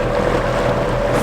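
A boat pushed along by a $400 electric outboard motor hums steadily at about 4.6 mph on windy open water, with a constant low drone and wind rush and no voices.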